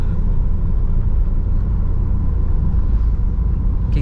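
A 2014 Honda Mobilio driving in third gear on a public road, heard as a steady, loud low engine and road rumble inside the cabin with no noticeable change in pitch.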